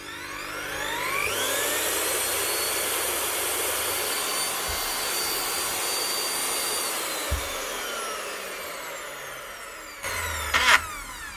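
A Refina mixing drill, repaired after a faulty lead, switch and bearing, spins up to a steady, close, high-pitched motor whine, runs evenly for several seconds, then winds down before a few clunks.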